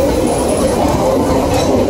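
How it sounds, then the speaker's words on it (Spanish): A freight train hauled by locomotive 7921 on the Ferrocarril General Urquiza rumbles past in Chajarí, a loud, continuous close roar of wagons with faint wheel squeal. "¡Qué hermoso tren, por favor!"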